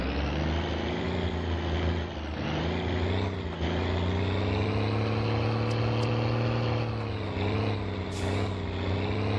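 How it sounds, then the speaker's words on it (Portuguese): A heavy truck drives in the game My Summer Car, its engine a steady loud low drone throughout, with a brief air-brake hiss near the end and no talk over it. "O caminhão tá pesado, hein"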